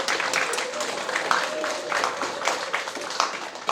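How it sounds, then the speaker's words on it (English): An audience at the 2019 LECDA USA convention in Houston gives His Majesty a sustained round of applause, a dense wash of many hands clapping, with voices carrying over it. "give Your Majesty another wonderful round of applause"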